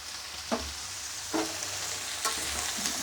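A bean, radish and potato ghonto is stirred in a frying pan, soft sizzling running throughout with four brief scraping strokes of the spoon spaced about a second apart, near and quiet.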